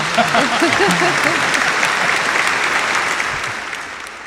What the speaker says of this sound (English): we're going to give him a house applause